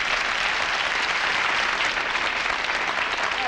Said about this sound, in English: Would you all applaud, please?